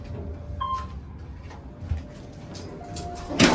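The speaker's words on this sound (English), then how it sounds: "Doors opening. Okay to enter." An Otis Series 1 hydraulic elevator at Great Wolf Lodge in Sandusky, Ohio gives a short chime, then its sliding doors rumble open over a quiet lobby hum, ending in a brief louder rush.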